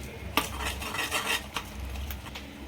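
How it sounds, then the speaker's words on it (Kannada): A utensil scrapes and taps against a pan while white sauce with oregano and chilli flakes is stirred, giving quiet irregular scraping strokes with a few sharper clinks. "ಇವಾಗ ಇದಕ್ಕೆ ಸ್ವಲ್ಪ ಚಿಲ್ಲಿ ಫ್ಲೇಕ್ಸ್ ಆ್ಯಡ್ ಮಾಡಿಕೊಂಡು ನೀಟಾಗಿ ಮಿಕ್ಸ್ ಮಾಡ್ಕೊಳ್ಳೋಣ"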